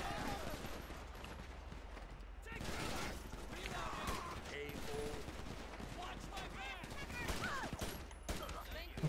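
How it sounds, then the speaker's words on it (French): A shootout in GTA V, rapid bursts of gunfire and automatic fire rattling throughout, loud and dense, with voices talking over the shots. "déjà ça part en fusillade"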